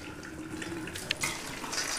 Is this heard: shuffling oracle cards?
no